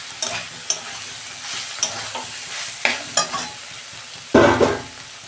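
Mixed vegetables for a vegetarian khichdi sauté over a low gas flame, a close crackling sizzle punctuated by repeated clacks and scrapes of a stirring spoon, ending in a louder burst of clatter; no one speaks.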